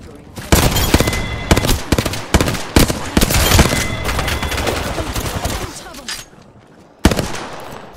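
Rapid bursts of automatic gunfire from an Apex Legends firefight, loud and dense with short gaps, ending in a final sharp shot.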